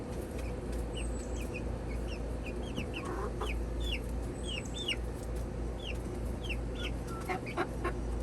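Several birds chirp and cluck in short, scattered calls over a steady low outdoor hum, with no talking.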